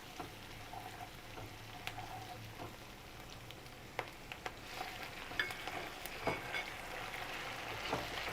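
Tomatoes added to onion and green chilli in a pan, sizzling and frying softly with scattered clicks and scrapes of stirring, faint and steady with no talk.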